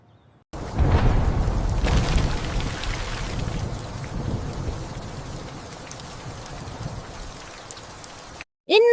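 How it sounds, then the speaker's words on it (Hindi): Cartoon rain falls as a steady, loud hiss that fills the clip and slowly fades, then breaks off abruptly near the end. "कभी बारिश आ जाती है"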